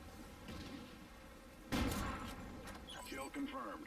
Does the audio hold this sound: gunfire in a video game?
yes